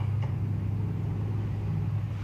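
Minivan rolling past at a car cruise in McMinnville: a steady, low engine rumble close by, even and continuous without revving, with no one talking over it.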